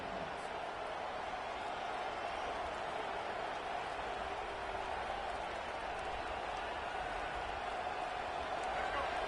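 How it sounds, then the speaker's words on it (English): A stadium crowd at a Miami Canes versus South Carolina college football game roars steadily during a timeout, a dense, continuous wash of cheering heard at a distance, with commentary voices faintly underneath. "This crowd trying to show them what it's going to be like all day in this house"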